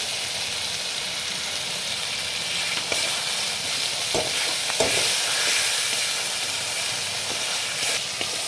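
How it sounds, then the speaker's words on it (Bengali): Spice paste sizzles steadily in hot oil for a taro and tengra fish curry, a close, continuous frying hiss with occasional stirring scrapes and pops, no talking. "মশলাটা আমার কষা হয়ে গেছে পাশ থেকে তেলগুলো সব ছেড়ে দিয়েছে"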